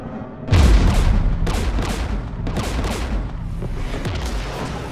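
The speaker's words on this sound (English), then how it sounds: "We're taking fire." A heavy boom opens a string of gunshots and explosive blasts in Mass Effect 3, with repeated loud cracks echoing over a rumbling combat background.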